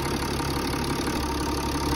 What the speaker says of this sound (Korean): 엔진 소리 좋네.